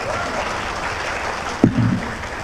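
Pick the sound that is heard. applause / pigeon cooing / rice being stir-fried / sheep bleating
applause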